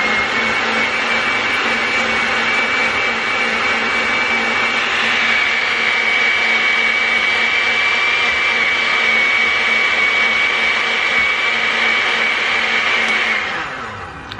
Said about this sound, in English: I mixed everything together and I put it in the blender.